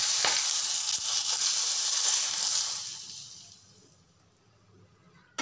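Potato bites for Korean-style chilli garlic potatoes drop into hot oil and sizzle loudly and close, the frying hiss strong for a few seconds before fading to a quiet bubble.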